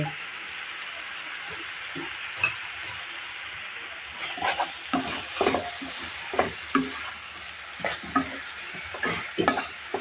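Prawns and cabbage with coriander leaves stir-fried in a pan, a low sizzle under repeated scraping and clanking spatula strokes that grow busier and louder through the second half.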